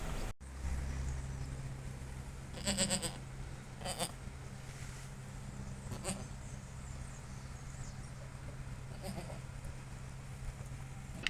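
Goat bleats at a veterinary visit, several short cries spaced across the clip over steady low background hum, moderately near.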